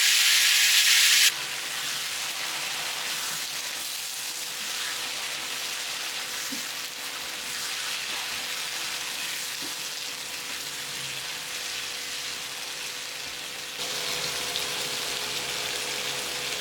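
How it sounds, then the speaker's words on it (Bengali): Vegetables frying in oil and ghee with bay leaf, dried chilli and panch phoron give a steady, soft sizzle and hiss, fairly quiet and continuous, with a brief brighter burst at the start. "হালকা নেড়ে এখানে সবজিগুলো সব দিয়ে দিব। এরপর বেশ কিছুক্ষণ কষাবো।"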